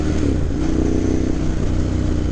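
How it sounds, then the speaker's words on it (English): A 2009 Ducati M1100 Monster engine revs hard when the throttle is cracked, giving a loud, close, rough mechanical roar that holds steady with a throbbing low rumble for about two seconds. "They crack the throttle on this thing."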